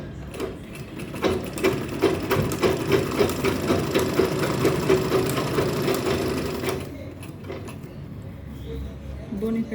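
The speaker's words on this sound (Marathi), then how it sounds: "बेल्ट शिवून घेऊ अशा प्रकारे." A sewing machine stitching a belt onto a traveling bag runs in a fast, steady clatter for several seconds, then stops, leaving quieter handling sounds nearby.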